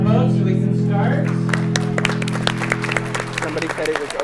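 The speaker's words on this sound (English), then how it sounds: "Somebody said it was okay for me to clap." Scattered handclaps from a small audience at a 2013 Human Library event, sharp and irregular, building into a sparse patter over a steady background hum with some voices at the start.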